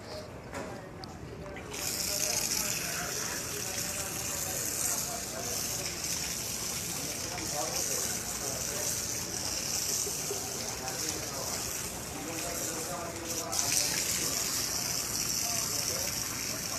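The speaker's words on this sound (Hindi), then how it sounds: "ये यार पाँव तो धो लूँ मैं।" Water gushes and splashes steadily from a tap as feet are washed outdoors at Jannat al-Baqi in Madinah, a continuous close rush with clattering and murmured talk in the background.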